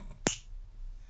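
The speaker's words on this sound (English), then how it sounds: "A finger snap." A single crisp finger snap rings out close by, sharp and sudden, then fades into quiet room background.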